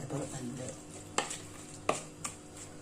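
A spoon stirs lentil soup with a little vegetable oil in a pot, giving soft scraping and three sharp clinks against the metal over a low background hum.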